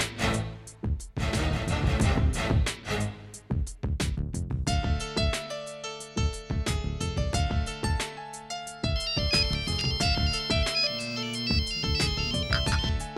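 A phone ringtone for an incoming call plays as a loud, steady melodic tune with repeating tones for the whole stretch, with no talking over it.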